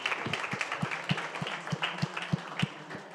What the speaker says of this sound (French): Je pense qu'on peut tous les applaudir pour cet échange intéressant.